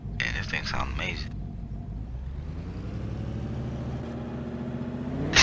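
Jeep Grand Cherokee SRT engine in Forza Horizon 3, a low rumbling drone rising in pitch as the virtual SUV accelerates, with someone talking briefly near the start.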